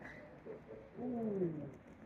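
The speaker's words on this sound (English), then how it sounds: "Look at that bird." A pigeon coos softly inside the dzong fortress at Paro, Bhutan: one faint, low, rolling call over quiet background hiss.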